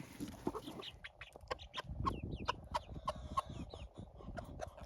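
Backyard hens, with white leghorns in the flock, cluck softly while calling chicks to food, repeated short calls over a quiet rustling background.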